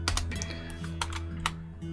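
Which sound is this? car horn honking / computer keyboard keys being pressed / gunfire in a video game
computer keyboard keys being pressed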